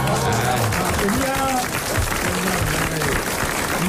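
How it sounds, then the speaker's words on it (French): A studio audience at a French radio show applauding, with dense, steady clapping throughout and voices speaking over it. "Monsieur Nicolas Jacques, que vous êtes en train d'applaudir, vous remercie par ma bouche"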